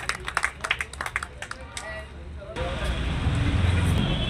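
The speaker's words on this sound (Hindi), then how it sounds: "तालियों से स्वागत करें।" Applause from an audience greeting a guest at a bar association seminar and honour ceremony in a civil court premises, starting as scattered claps and swelling into dense, steady clapping with some outdoor wind noise.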